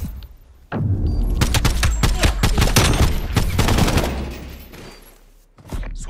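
Rapid bursts of AK rifle fire in Call of Duty Black Ops Cold War, a loud run of sharp repeated shots over about three seconds, then a few scattered reports and a final close shot.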